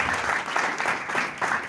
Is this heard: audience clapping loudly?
yes